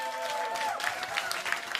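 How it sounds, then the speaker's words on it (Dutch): Audience applause for the jury at a pub quiz, a soft, steady patter of many hands with a few whoops and voices mixed in. "Applaus voor de jury."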